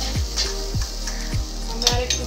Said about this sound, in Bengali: ভালো করে মিশিয়ে নিচ্ছি চুলার আঁচটা কমে রেখে।